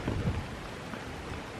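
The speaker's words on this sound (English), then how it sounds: "It's actually just beginning to rain here at the moment." Light rain just beginning to fall at Baconsthorpe Castle, an English Heritage ruin in open grounds, heard as a faint steady hiss with a few low rumbling thumps near the start and no voices.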